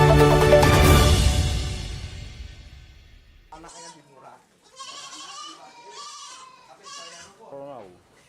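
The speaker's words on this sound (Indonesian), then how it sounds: "Peternakan kambing menjadi salah satu yang cukup potensial dan menjanjikan untuk dikembangkan di Kabupaten Kota Waringin Barat." Goats on a goat farm in Kotawaringin Barat Regency bleat in several wavering calls after a loud opening sound fades. The nasal cries come close and clear, one after another with short gaps.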